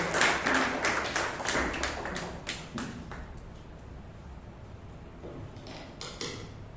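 A small Toastmasters meeting audience gives scattered applause, a few sharp claps close by that quickly thin into sparse taps and trail off.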